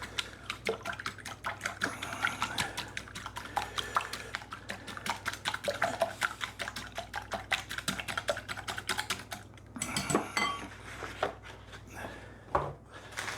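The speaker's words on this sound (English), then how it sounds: "We're going to give that a quick whisk." Eggs being whisked in a bowl for Yorkshire pudding batter, rapid rhythmic clicking and tapping strokes close up, pausing briefly before resuming.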